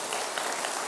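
A church congregation applauds during a Sunday worship service, a brief burst of dense, close clapping from many hands.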